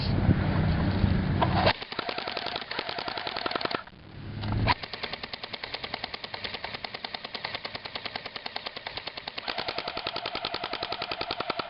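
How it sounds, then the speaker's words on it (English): Airsoft gun firing rapid close-range bursts into a TV at near distance, a dense rattling stream of sharp shots with a brief pause partway, loud and continuous with no talking. "I'm going to do a couple close range shots."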